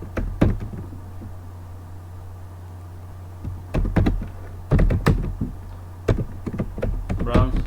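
Keys clatter on a computer keyboard in irregular bursts of quick, close, fairly loud taps with short pauses between, over a low steady hum, while someone types network device names.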